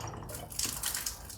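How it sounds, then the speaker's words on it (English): Water tossed out of a container, a short rushing splash with scattered drips and spatters, close and fairly loud, with no voices. "Let me toss this water away."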